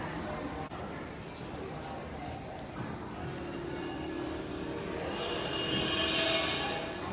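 A large scale model train runs on its track at the California State Railroad Museum in Sacramento, giving a faint, steady rumble in a hushed hall, with a thin wheel squeal rising near the end.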